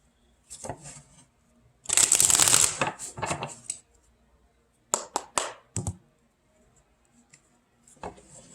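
Tarot cards being shuffled in several bursts: a long riffling rush, then a few quick flicks and taps separated by silences.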